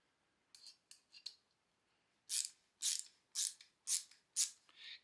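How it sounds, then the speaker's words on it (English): Wera stubby 1/4-inch bit ratchet loosening and backing out a screw: a few faint light clicks, then five loud, evenly spaced bursts of sharp ratcheting clatter, close up with no voices. "this is the Wera. I'm loosening or pulling the screw out."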